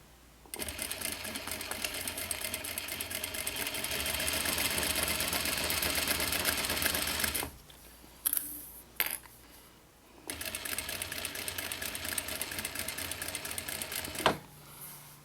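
A home sewing machine stitches a mini box tote at a 1/4 inch seam allowance, running in a long steady burst, pausing with a few short stops, then running steadily again before a brief click near the end.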